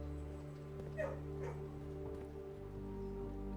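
Dog in the kennel room of the Blue Prince video game, a few soft whimpering yips and small barks over a steady game music and ambient hum.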